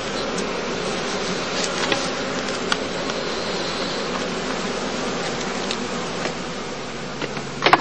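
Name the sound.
honeybees buzzing at heather skep apiary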